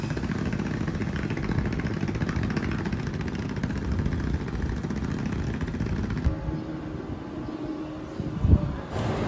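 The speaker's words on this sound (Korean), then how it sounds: "지금 약간 들리시는지 모르겠는데 저 배 모터 소리가" A boat motor runs offshore in front of a beachfront hotel in Bali, a steady droning engine rumble that holds at a constant level throughout with a brief knock near the end.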